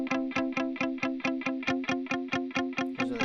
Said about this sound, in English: Then right here we got the riff guitar playing all of the fun stuff to add detail.